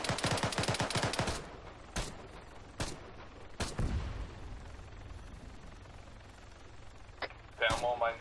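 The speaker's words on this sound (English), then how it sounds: "There are more mines keep shooting." Gunfire in the Arma 3 video game as a squad shoots at mines from a vehicle: a rapid burst of loud shots at the start, then scattered single reports with faint radio chatter.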